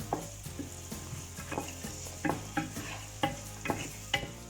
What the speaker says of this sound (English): So now I'm going to put the onion.